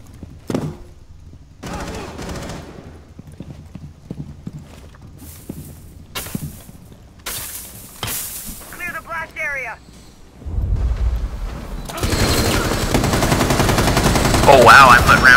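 Gunfire in Rainbow Six Siege during a Club House terrorist hunt: sharp shots and quick bursts spread across the clip, then a louder, denser stretch of firing near the end, with talk around it.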